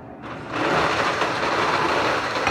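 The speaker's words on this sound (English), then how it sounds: "Hey, that's a nice blender." An electric blender whirs up after a brief quieter moment, then runs at a steady loud grinding whine to the end.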